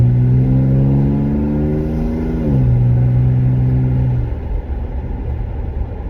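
A pickup truck with a new muffler-delete exhaust rumbles close by, its deep bassy drone climbing through a rev then dropping back to a rough idle, with no talking over it.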